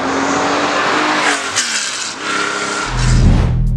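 A 1973 Porsche 911 T outlaw build driving hard: a loud, sustained engine roar with tire squeal and skidding, then a deeper rumble swells near the end. It is close and dominant, with no voices.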